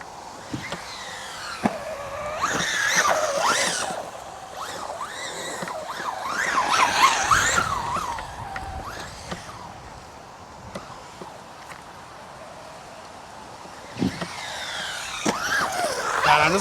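A Traxxas Jato 4x4 VXL 4S RC car whines in rising and falling electric motor bursts as it drives and jumps, loud up close with quieter stretches between runs.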